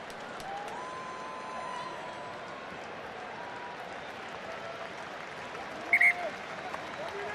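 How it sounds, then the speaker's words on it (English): A stadium crowd applauds at a rugby sevens match in London, a continuous wash of distant clapping with a commentator talking over it and a short sharper burst near the end. "the fun scenes around the stadium as everyone stands up to applaud"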